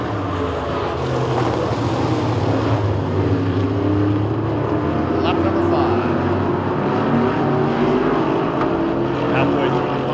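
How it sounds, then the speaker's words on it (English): Modified sportsman race cars run on a short track at Talladega, their engines droning as a pack while throttles are blipped through the corners, loud and sustained with some distant bursts. "you can see and hear the modified drivers working the throttle as they burp it through the corners to find traction"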